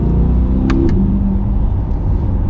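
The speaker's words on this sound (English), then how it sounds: "First thing I'm noticing is the gear shifts are exceptionally quick." A 2020 Chevrolet Corvette C8 Z51 roars loudly and close up as it accelerates, its engine rumbling steadily with a couple of brief shift breaks early on.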